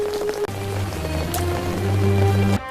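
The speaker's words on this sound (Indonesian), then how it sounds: "Hujan pun turun mengguyur basah semuanya." Heavy rain pours down in a dense, steady hiss, with a low tonal drone running underneath throughout.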